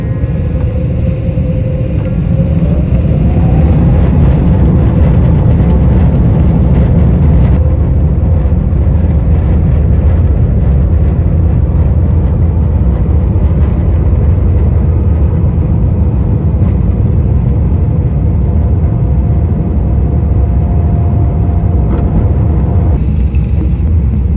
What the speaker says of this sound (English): After a short taxi out to runway 19 right on Gardermoen, we were up in the air.